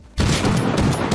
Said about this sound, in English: I got me a shotgun now!